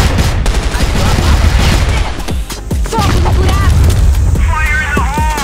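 Gunfire from a Kar98 rifle in a ranked online shooter match, with loud sharp shots and booms over dense game noise and voice chat.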